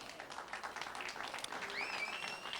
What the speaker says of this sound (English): let's have a huge round of applause for our 2 finalists, Collette Henrikson and Harriet Haynes